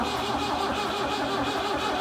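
An old diesel tractor engine left abandoned for three years cranks over, a loud, steady rhythmic churning of the starter with pulsing beats and no firing, close by.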